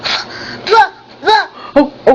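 A child imitates a dog barking, making several short, breathy woof-like sounds spaced apart, close to the microphone.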